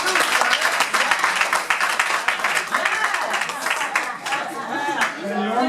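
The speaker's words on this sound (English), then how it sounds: "Please give yourselves a round of applause." An audience fills the room with dense, sustained applause, many hands clapping loudly and continuously throughout.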